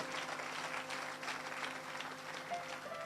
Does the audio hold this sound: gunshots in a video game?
no